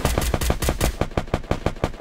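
Automatic gunfire in the battle royale game Free Fire, a rapid run of about a dozen sharp, loud shots in an even rhythm, heard alone without talk.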